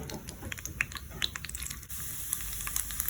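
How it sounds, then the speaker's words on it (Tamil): Grated coconut fries in ghee in a pan, a soft continuous sizzle with small crackling pops and occasional stirring scrapes, close by and alone. "நெய் ஊற்றிட்டு இந்த தேங்காவை இதில் ஃப்ரை பண்ணி எடுத்துக்கலாம்"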